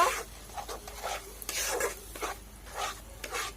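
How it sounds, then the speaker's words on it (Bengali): Spices for a Bengali magur fish bhuna are stirred and fried in a pan. A quiet, rhythmic scraping and rubbing of a spoon repeats in short strokes over a soft, faint sizzle. "মশলাগুলোকে ভালো করে কষিয়ে নেব আমি।"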